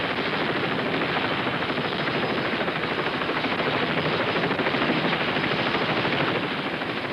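A helicopter hovers nearby, a loud, continuous rapid chopping of rotor blades with broad engine roar, steady throughout with no voices.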